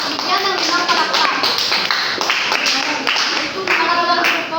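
A group in a classroom claps together in quick, loud, rhythmic bursts, sharp hand slaps repeating close by with voices mixed in.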